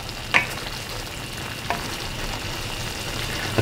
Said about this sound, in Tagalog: papabayaan lang natin itong kumulo ulit